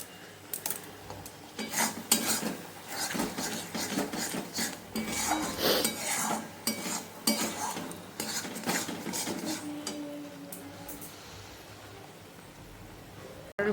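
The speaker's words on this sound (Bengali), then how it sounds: "এবার মশলাটা কষে জল দিয়ে দেবো" A spoon scrapes and stirs thick spice masala for a paneer and pea curry in a metal pan, rhythmic rasping strokes repeating for several seconds, then a softer pour of water near the end.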